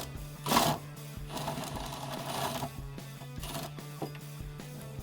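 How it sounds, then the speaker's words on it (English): A ratchet or power tool whirs and clicks close by as bolts come out of a Jeep Wrangler JL's Rugged Ridge tire carrier hinge, with short mechanical bursts and a steady low hum beneath. "Now I'm going to completely remove 2 of the bolts"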